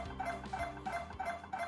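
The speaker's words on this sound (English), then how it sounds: "you will hear the noises of the MRI machine at work." An MRI scanner at work during a brain scan, heard faintly as a steady, rhythmic pulsing with a buzzing tonal whine that repeats at a regular beat, with no voices.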